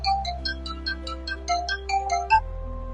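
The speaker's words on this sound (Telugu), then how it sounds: "ఫోన్ వచ్చింది నాకు." A melodic phone ringtone plays a repeating run of bright electronic notes over a steady low hum, loud and close, stopping abruptly near the end with no talk in between.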